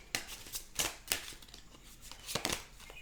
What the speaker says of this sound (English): let me go ahead and shuffle again.